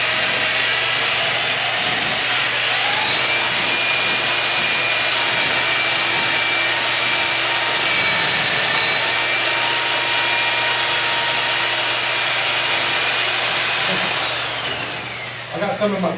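A drill mixer churns thinset mortar in a bucket with a loud, steady motor whir and a grinding churn beneath it, held close for most of the time, then easing off at the end.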